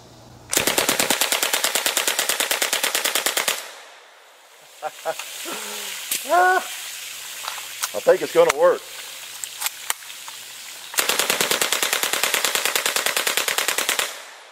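German MP40 submachine gun fires two long sustained bursts of rapid, evenly spaced shots, loud and close, with a quieter stretch of clicks and faint movement sounds between them.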